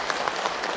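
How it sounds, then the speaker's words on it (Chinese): A short burst of audience applause at a live Chinese crosstalk comedy performance, many hands clapping densely and fairly loud for under a second. "玩得兴奋，给点掌声好吧？"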